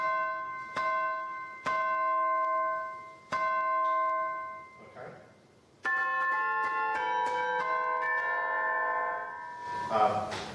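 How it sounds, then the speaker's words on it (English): Tubular bell tones ring out one at a time, each struck note sustaining and fading, then several overlapping chimes build into a denser ringing cluster. "So if I have a tubular bell,"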